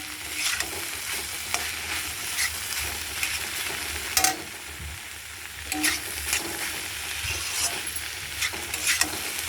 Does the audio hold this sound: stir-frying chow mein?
yes